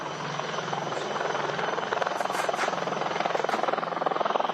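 A Mi-17 helicopter drones steadily with a rapid rotor chop that grows slightly stronger, fairly close and continuous, over an NCC rally at a parade ground in Delhi.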